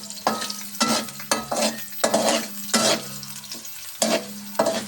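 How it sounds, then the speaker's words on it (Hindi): Chopped onions fry in hot oil, loud sizzling broken by repeated stirring strokes, roughly one scrape each second, with the hiss swelling at every pass. "अब इसमें आप प्याज ऐड कर दो, इसको फ्राई करो प्याज को।"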